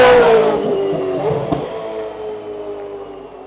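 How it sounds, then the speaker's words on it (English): A GT spec race car passes at Bathurst circuit, loud and close at first with a high engine note that falls in pitch as it moves away, then fades into a softer distant drone with a brief clatter midway. "I could hear that GT spec car."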